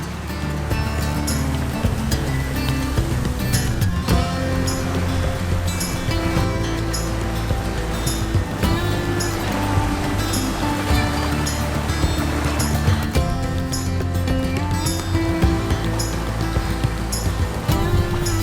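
A boat runs steadily through swell at 7 knots, hull noise and a low engine drone continuing throughout with wind and splashing water around it.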